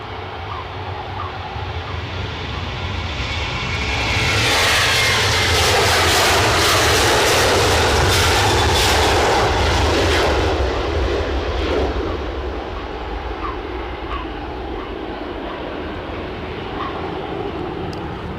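A Qatar Airways Airbus A350 jet at Edinburgh airport swells into a loud, close engine roar that peaks midway and then slowly fades, with no talk over it.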